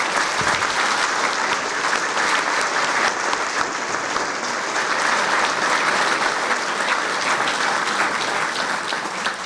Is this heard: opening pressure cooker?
no